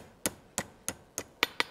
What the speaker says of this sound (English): So I'm going to hammer this back.